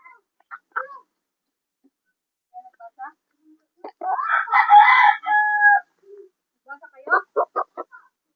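A rooster crows loudly once near the middle, surrounded by short clucks and scattered chicken calls before and after, close by with quiet gaps between.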